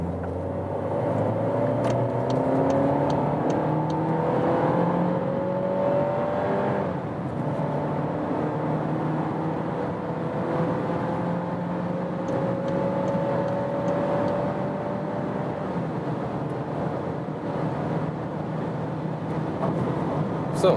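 A VW Golf 8 with the 1.5 TSI 150-horsepower engine, driven in S mode, accelerates hard from about 40 km/h. The steady engine drone climbs in pitch through several gear changes and is heard from inside the car, loud and continuous, with no talking.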